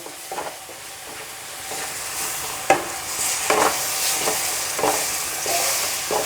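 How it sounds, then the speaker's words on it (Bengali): Sugar water poured bit by bit into ghee-roasted wheat flour for halwa, with a sizzling hiss and repeated scraping stirs and clanks of a spoon against the pan, close and moderately loud, without speech. "এবার আমি এর মধ্যে যে চিনির জলটা করেছিলাম সেটাকে অল্প অল্প করে দেব, দিয়ে আটার সঙ্গে মেশাবো"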